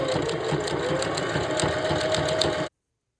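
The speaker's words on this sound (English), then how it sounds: "Now, when I'm at the end, I just sew off." Sewing machine running steadily as it sews off the end of a hair track on a mesh dome cap, a close, continuous motor hum that stops abruptly.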